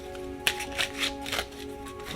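A Star Seeds mini oracle card deck is shuffled by hand, a few quick riffling bursts and soft card slaps close by, with no talking.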